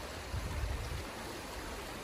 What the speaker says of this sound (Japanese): これが黒部川、